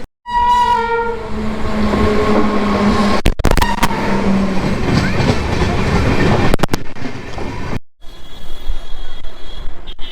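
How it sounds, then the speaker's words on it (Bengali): The Uttarbanga Express, 13147, sounds a loud horn at the start, then a steady, heavy rumble of wheels and carriages on the rails runs throughout, with sharp clanks and a brief dip near the end. "one three one four seven Uttarbanga express যেটা করে আমি আজকে যাচ্ছি"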